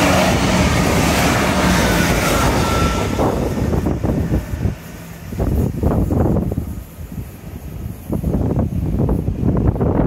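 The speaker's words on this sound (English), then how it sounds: "here's a train." A train passes a railway crossing close by, its loud rushing rumble and wind noise filling the first seconds before fading into lighter clatter and intermittent knocks.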